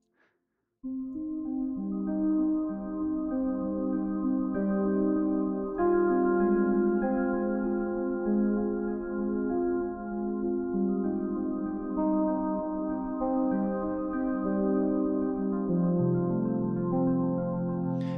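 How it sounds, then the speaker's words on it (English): Two interlocking arpeggios from the Sonuscore ELYSION synth ripple quickly over a warm sustained pad, a steady shimmering pattern of fast notes continuing at moderate volume without any voices. "So like our two arpeggiators together now sound like this."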